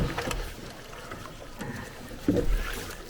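A canoe being pushed along through shallow flooded water with a paddle, soft wooden knocks and splashy water swishes under wind noise, with a firmer thud near the end.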